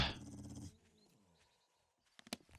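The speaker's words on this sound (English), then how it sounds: "There's the other dog. I knew there was one around. Bad dog." A dog in the 7 Days to Die video game growls low and rough for under a second, then goes quiet before a few faint, scattered noises.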